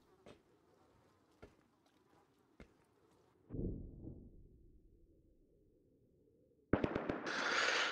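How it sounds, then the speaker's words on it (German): Distant gunfire at an event in the video game Rust: sharp, scattered cracks and pops, a rumbling burst midway, then a dense flurry of shots near the end over a constant insect-like buzz. "Die schießen da oben auf jeden Fall ohne Ende."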